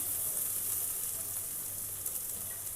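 Steady hiss and crackle of onions sizzling in hot oil, continuous and fairly close, with no talking.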